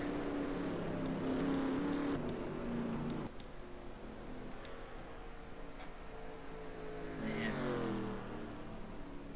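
Race car engines droning and shifting pitch in a sim racing game, a steady close roar with several cars passing and revving, one rising whine near the end.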